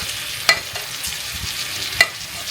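Two steaks frying in butter with garlic in a pan give a close, steady hiss and sizzle, broken by two sharp clicks of utensils against the pan.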